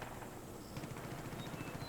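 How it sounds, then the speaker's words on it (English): Faint rapid bursts of automatic gunfire in the video game Far Cry 5, set in rural Montana, crackle in quick repeated rhythm from a distance with no talking. "I can hear some gunfire."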